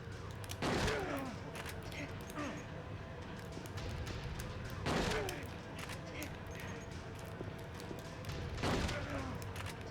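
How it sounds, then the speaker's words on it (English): Gunfire at point blank range in the video game Silent Hill 2, three sharp shot bursts spaced several seconds apart over a steady game background, with talk in between. "shoot each other at point blank range again?"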